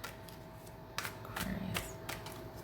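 Tarot cards are shuffled close up in soft, scattered bursts of papery slaps and riffles, quiet and with no talking.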